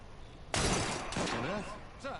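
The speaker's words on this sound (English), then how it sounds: "That sounded like a second gunshot." A sharp gunshot cracks loudly in an Assassin's Creed Syndicate game scene, followed by voiced sounds and a later fainter burst.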